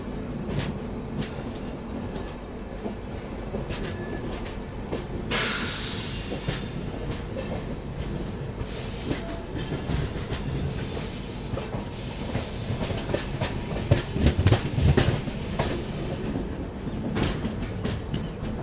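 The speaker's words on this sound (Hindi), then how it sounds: "यहाँ पे अभी अपनी ट्रेन मुड़ जाएगी" The Bangalore Rajdhani passenger train runs along curving tracks beside a lake, giving a steady close rumble with clickety-clack of wheels and occasional faint squeals, with no talking.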